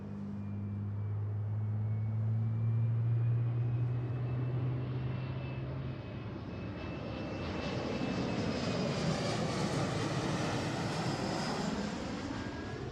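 An airliner arrives at Seattle's airport, a sustained jet engine roar building and shifting as it passes, heard from a distance with a steady drone throughout.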